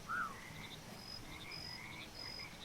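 A single short frog croak from the frog nature sim Mudborne opens, followed by faint high chirping insect-like tones scattered over a quiet ambient background.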